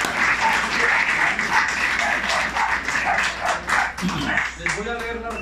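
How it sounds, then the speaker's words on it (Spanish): Audience applause at an anniversary gathering, a burst of clapping mixed with excited voices and shouts, thinning toward the end as talking continues. "¡Aplausos!"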